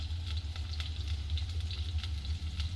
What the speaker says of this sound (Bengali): এইভাবে দিয়ে আমি এইভাবে নেড়ে ছেড়ে একদম ভাজা ভাজা করে নেব